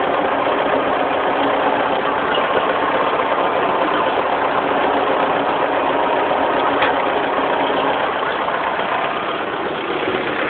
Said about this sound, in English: it's just a good old running tractor